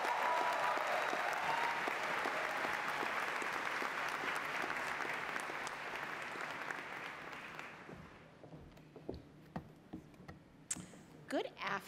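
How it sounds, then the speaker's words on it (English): A graduation audience at Miami-Dade College gives a keynote speaker a long burst of loud applause. The clapping fades out after several seconds, leaving scattered claps and faint room noise. "Let's give her a warm Miami-Dade College round of applause."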